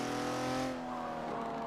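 A Ferrari 250 GTO racing car in the Forza video game, its engine note holding steady and loud before easing slightly, close and continuous without talk.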